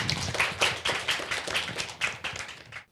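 A small audience at a civic education talk show claps after a presentation, a brief burst of fairly close, distinct claps in an uneven rhythm that stops abruptly.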